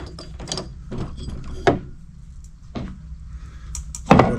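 Modules are unscrewed from a BMW 5 Series F10 headlight during repair, giving a few separate sharp clicks and ratcheting taps with quiet gaps between them, close to the microphone.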